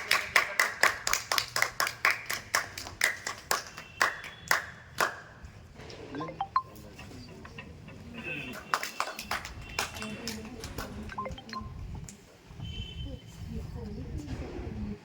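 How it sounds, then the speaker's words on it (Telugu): Boys at a government school summer karate camp in Jammikunta clap in a quick, evenly spaced series of sharp claps, followed by looser clapping and children's voices talking and shouting nearby. "చప్పట్లు కొట్టండి"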